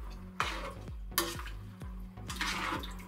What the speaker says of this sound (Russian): Сейчас мешаем все.